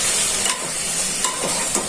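Chopped tomatoes and spices frying in a pan for a country chicken curry, a loud, close sizzle and hiss with a few stirring scrapes, no talking.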